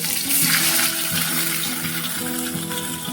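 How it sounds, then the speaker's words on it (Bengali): Two koi fish fry in plenty of hot oil, producing a loud, dense, continuous sizzle that stays even throughout with no voices present. "2টো করেই আমি ভাজছি।"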